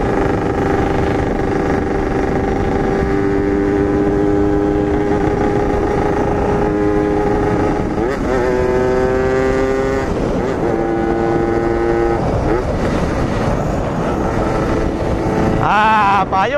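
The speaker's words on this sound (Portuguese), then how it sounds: "Pessoal, RD-135 do Gustavo" Yamaha RD 135 two-stroke motorcycle engine running in steady break-in, a continuous droning note that rises and falls with throttle blips, close and loud throughout, with a few voices talking over it.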